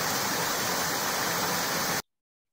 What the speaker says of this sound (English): It didn't take long to find out that the water was leaking,